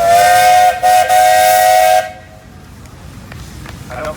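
A Harrison steam engine at a steam show lets out a loud, piercing whistle for about two seconds with one brief break. It cuts off into quieter steam hiss.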